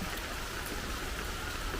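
Rain falls steadily with wind, a dense even hiss with no break or change in level, heard alone with no voices.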